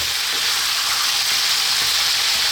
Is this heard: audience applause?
no